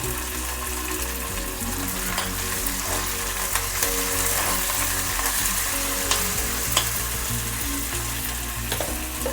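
Onions fry in oil in a pan, a loud, steady close sizzle with occasional stirring scrapes and crackles, continuous throughout with no talking.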